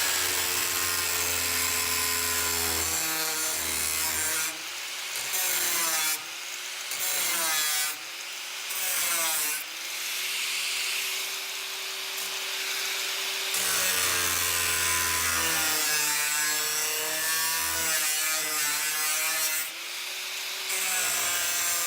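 Power saw cutting a window opening through the sheet-metal body of a 21-window VW Bus during a Samba conversion, a loud whining cut running in several bursts with short pauses between passes.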